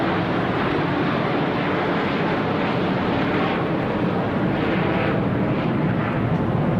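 A fixed-wing airplane passes over the tennis stadium during the 1980 US Open women's final, a loud, steady, broad roar filling the whole stretch with no voices.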